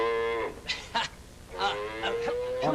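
Cow-like moos performed in a comedy skit, several drawn-out lowing calls in a row at moderate level, with brief pauses between them.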